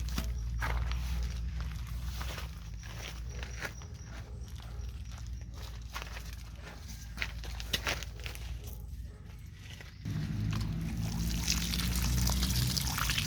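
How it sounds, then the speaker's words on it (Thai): Water splashes steadily onto water spinach seedlings in a vegetable bed as they are watered with fermented lotus-manure water, pouring continuously and growing heavier toward the end. "เราก็จะทำการรดน้ำเลยค่ะ เดี๋ยวเอาน้ำมารดนะคะ"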